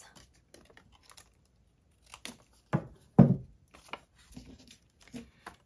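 Paper strip trimmed off a handmade scrap-paper sticker storage folder, a few quiet crisp snips and rustles clustered in the middle, the loudest pair close together, with no talking.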